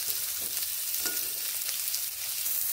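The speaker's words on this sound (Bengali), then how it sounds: "ডাঁটাগুলোকে মিডিয়াম ফ্লেমে 30 থেকে 40 সেকেন্ড ভেজে নেব।" Drumstick (sajne) pieces frying in oil in a kadai over medium flame, a loud continuous sizzle with faint stirring scrapes heard up close and without any talking.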